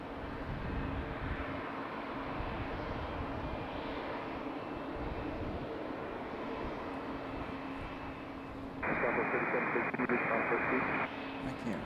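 A JetBlue airliner at Raleigh-Durham airport gives a steady, fairly distant engine roar that runs throughout, with a louder, brighter burst of noise near the end.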